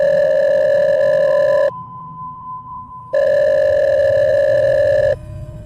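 Electronic telephone tone from an incoming call from a mother, a steady beeping ring in two bursts separated by a short quieter gap with faint hum.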